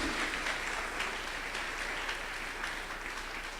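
A church congregation gives sustained applause during a sermon, a soft, even wash of many hands clapping together that stays steady for several seconds at moderate distance.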